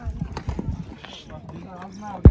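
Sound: horses galloping at a hippodrome during an ulak game

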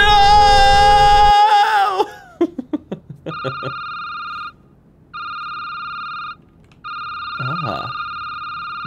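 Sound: telephone ringing in a video game

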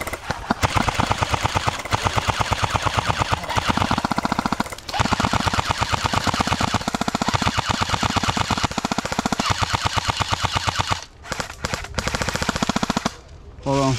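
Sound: airsoft LMG firing bursts

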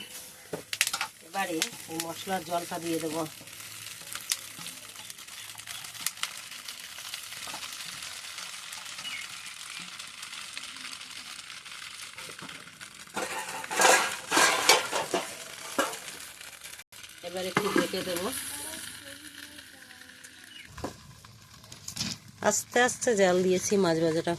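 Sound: fish wrapped in leaves frying in a pan

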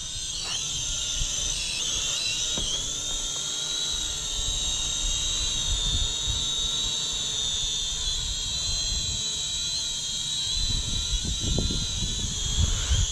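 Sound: Snaptain A15H drone flying

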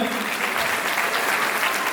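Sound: audience applause

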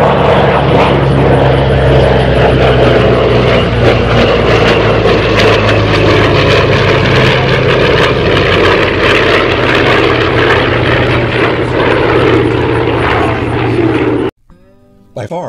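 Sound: Douglas Skyraider single-engine piston aircraft engine

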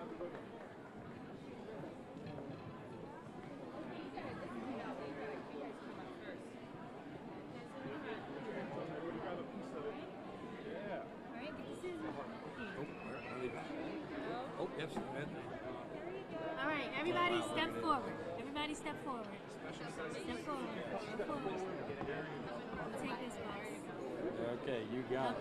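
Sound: crowd chattering at a school ribbon cutting

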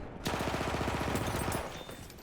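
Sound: gunfire in the video game Battlefield 1

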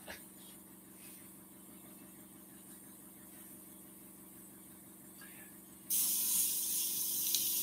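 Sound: compressed air blowing stencil flat on wooden bowl

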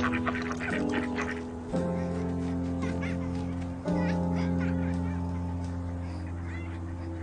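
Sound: ducks in a park pond

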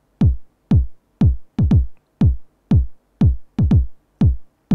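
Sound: TR909 kick drum sample in Logic Pro

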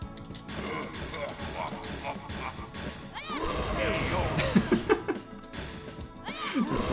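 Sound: fighting hit impacts in the video game Tekken 2

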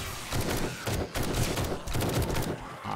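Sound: tier 6 TAC rifle firing high power ammo, video game 7 Days to Die

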